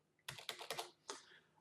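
Fingers type on a computer keyboard, a quick cluster of four close, crisp key presses followed by one more after a short pause, quiet and near.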